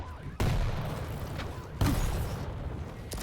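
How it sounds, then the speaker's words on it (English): Rockets and railgun shots in the arena shooter Quake Champions, two sharp loud blasts about a second and a half apart over a dense rumbling game backdrop. "See rockets from below and the rail push"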